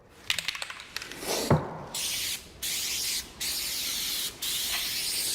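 A few rattling clicks of a shaken can, then several bursts of hissing aerosol spray, each lasting about a second, separated by short pauses.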